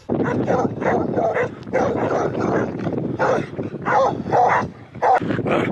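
Several dogs bark continuously and loudly, overlapping yips and woofs in a dense, near chorus with barely a pause.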